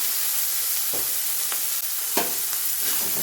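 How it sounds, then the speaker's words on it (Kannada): Cluster beans frying in a spoonful or two of oil in a pan, a steady close sizzle with a few sharp stirring scrapes against the pan. "ಸ್ವಲ್ಪ ಫ್ರೈ ಮಾಡಿ."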